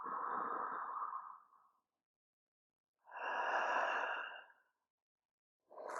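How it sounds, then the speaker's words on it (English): Slow, deep breathing during a gentle morning yoga flow: a long, soft exhale, a pause of silence, then a full airy breath and the start of another, close and alone. "Last breath, cleansing inhale and exhale."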